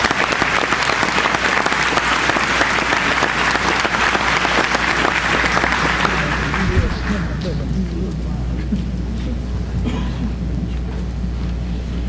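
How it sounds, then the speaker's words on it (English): A board meeting audience bursts into loud, sustained applause from many hands, dense and close for about seven seconds before tapering off into quieter room murmur and scattered claps. "So let's give them another round of applause."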